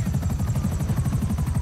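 A helicopter's rotor thumps in a fast, steady rhythm over a low engine drone in GTA Online, close and loud, with no talking.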